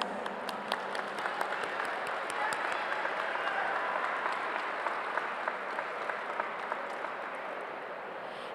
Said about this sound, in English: let's give our round of applause to our families